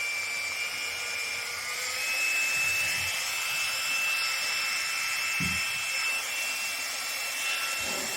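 A YS-G9 mini handheld fan runs at its top speed, producing a steady high-pitched motor whine and whooshing airflow that stays constant and close for the whole stretch, with a couple of faint handling bumps and no talking.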